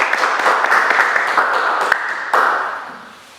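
Audience applause for a teacher at a regional history conversatorio in Oaxaca, Mexico: a dense, steady burst of many hands clapping together, fairly close and loud, thinning out and fading toward the end.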